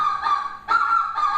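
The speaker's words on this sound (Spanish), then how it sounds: "Tenemos los gansitos, ahí están allí, con su sonido" Geese honking in a group, with three loud nasal honks in quick succession, clear and fairly close, and no voices.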